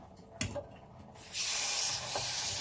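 Oil goes into a pan for pork chops: a couple of light clinks, then a steady, close sizzling hiss that carries on to the end.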